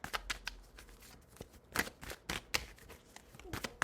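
Tarot cards are shuffled and drawn by hand, producing crisp riffling bursts and soft slaps in an irregular rhythm, close and clear with no speech.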